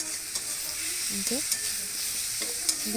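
Tomatoes frying in a pan for an egg and cauliflower curry, stirred with a spatula: a steady broadband sizzle runs throughout, broken by a few soft scraping strokes of the utensil against the pan.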